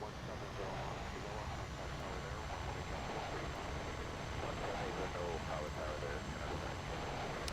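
Airbus A330-200 engines roar in reverse thrust on landing rollout in the X-Plane 11 flight simulator, a dense, steady broadband rush with faint talk beneath.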